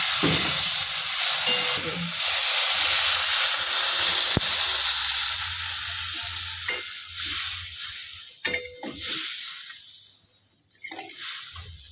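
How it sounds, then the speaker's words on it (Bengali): Potatoes stir and fry in a thick spiced masala for a fish-roe curry, giving off a loud sizzling hiss that gradually fades, with occasional scrapes and taps of a spoon against the pan. "মশলাটা কষানো হয়ে গেছে, এর মধ্যে আমি আলু দিলাম, দিয়ে আরেকটু নেড়ে চেড়ে জল দিয়ে দেবো"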